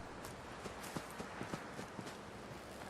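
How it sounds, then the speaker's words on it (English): Footsteps in the Fallout 4 video game thud one after another in an uneven walking rhythm, soft, muffled impacts over a quiet background hiss. "All I can hear in my ear is footsteps"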